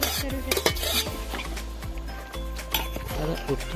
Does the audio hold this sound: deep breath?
no